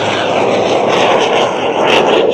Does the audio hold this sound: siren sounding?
no